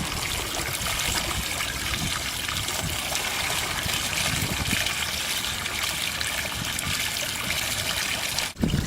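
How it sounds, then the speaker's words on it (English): Water trickles and gushes steadily out of the hull of a tipped JetSurf board, a continuous close-up wash of liquid sound ending with a brief knock. "Once you have recovered the board, the first step is to get the water out of the board."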